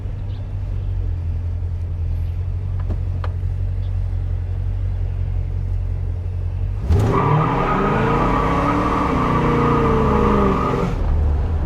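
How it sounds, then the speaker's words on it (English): A 1969 Dodge Polara with a 440 engine idles with a deep, loud rumble, then abruptly launches, tires spinning as the engine roars up and shifts into second, staying loud and close to the end. "It will spin the tires and upshift the second."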